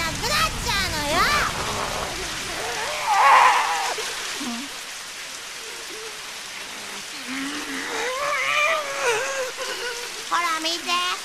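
Rain falls in a continuous hiss while people speak over it and other sounds rise and fade, the rainfall staying as a steady bed underneath.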